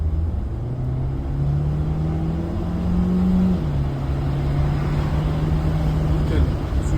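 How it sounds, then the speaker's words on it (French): Volkswagen Tiguan accelerating hard, engine rising in pitch then dropping after a gear change and climbing again, a steady close rumble heard from inside the cabin as someone talks. "Et là, je vais mettre un bon coup d'accélération pour voir ce que ça donne."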